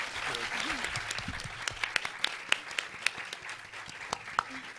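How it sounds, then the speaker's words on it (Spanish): An audience at a panel discussion on media responsibility applauds three guests with sustained clapping, a few sharp individual claps standing out near the front and voices murmuring underneath. "les pido un aplauso para nuestros 3 invitados"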